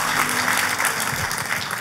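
A church congregation claps together for Jesus Christ, a steady, loud wash of applause from a sizeable crowd with no pauses.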